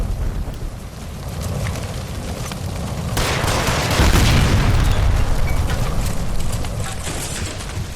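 In the video game L.A. Noire, a gas line by a stove blows up: a deep booming blast swells midway and gives way to a loud, sustained roaring rush and crackle, with no talk over it.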